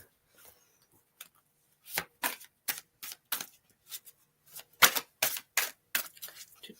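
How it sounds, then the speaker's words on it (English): Tarot cards are pulled from a deck, making a series of crisp, irregular snaps and flicks, some grouped in quick succession, close and fairly quiet with no talking. "I'm going to pull the cards for you."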